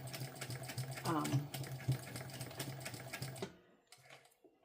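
A sewing machine stitching a sling bag, fast rhythmic needle chatter that runs steadily and then stops, leaving a few faint clicks; a voice is briefly heard underneath.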